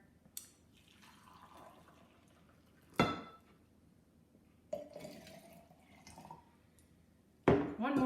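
Boiling water poured into a jar for kitchen crystal-making, with brief splashy pours and clinks separated by quiet gaps, close by.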